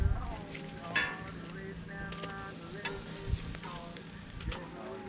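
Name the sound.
burgers being flipped on a camp grill, sizzling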